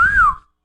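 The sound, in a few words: person imitating a whistle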